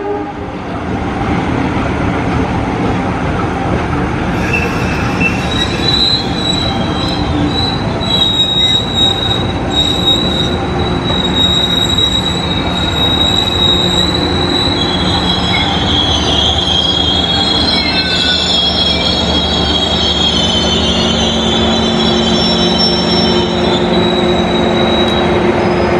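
Serayu night train hauled by locomotive 20193 rolling on the rails, a steady loud rumble of wheels with a sustained high metallic wheel squeal rising and falling through most of the run.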